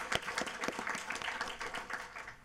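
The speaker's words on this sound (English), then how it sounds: "thank you for the applause" Applause from the audience at a Haltom City, Texas city council meeting, a steady mix of many hands clapping with a few sharper nearby claps standing out, continuing throughout at moderate level.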